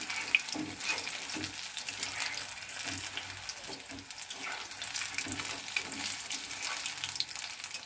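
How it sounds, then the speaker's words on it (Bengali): Pakora balls fry in hot oil with a steady, crackling sizzle that fills the whole stretch, while a spoon gently stirs them with soft, irregular scrapes and knocks underneath. "আস্তে নাড়তে হবে এইভাবে এটাকে একটু সময় নিয়ে ভাজতে হবে"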